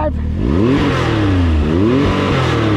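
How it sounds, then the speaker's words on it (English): The Can-Am X3 XRC Turbo RR engine is blipped in neutral in a couple of quick, loud revs, rising and falling in pitch, close and alone. "Couple little rev ups"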